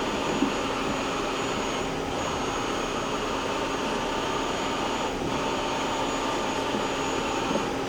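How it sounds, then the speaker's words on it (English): A Milltronics CNC vertical mill spindle runs with a steady, continuous whine and broadband hum at constant loudness, with no talk. "you heard the spindle run"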